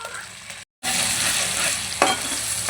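Tomato lands in hot oil for a bottle gourd chicken curry. A loud, close hiss starts after a brief silence and holds steady, with a small sharp flare partway through.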